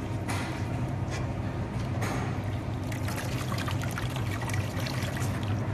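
Grated latke mixture squeezed hard by hand to press out excess liquid, giving a close, continuous wet trickle and dribble of water with no voices over it.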